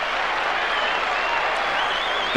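An appreciative crowd at a 1996 AFL match between Collingwood and Fitzroy applauds a passage of play, dense sustained clapping filling the stadium with a commentator's voice over the top.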